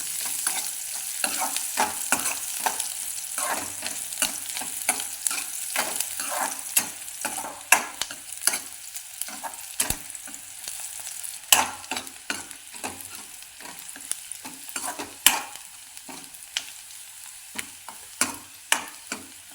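Sliced onion sautéing in a pan for a village-style tomato curry, with a steady soft sizzle broken by frequent scraping and tapping of a spoon as it is stirred, sharper clacks standing out near the end; no voices.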